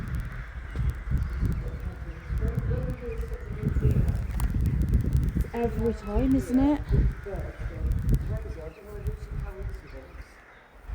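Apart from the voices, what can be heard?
birds calling agitatedly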